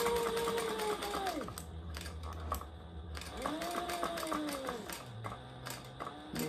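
A sewing machine stitches faux suede vinyl for a wallet in short bursts, its motor rising and falling in pitch as it speeds up and slows, close by with clicking mechanical ticks between runs.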